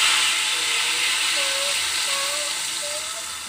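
Raisins, almonds and cashews roast in a pan with a steady, hissing sizzle that slowly fades.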